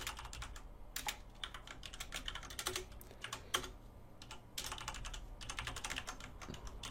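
Rapid, uneven keystrokes on a computer keyboard while a Hello World web server is coded, close and clear, with short pauses between bursts and no talk.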